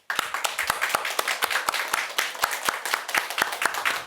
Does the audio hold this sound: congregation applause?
yes